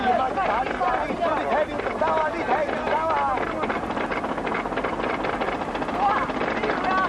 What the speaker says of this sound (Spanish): Un pequeño motor sacará al barco del puerto.